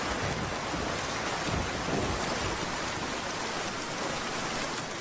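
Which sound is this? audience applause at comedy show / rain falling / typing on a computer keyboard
rain falling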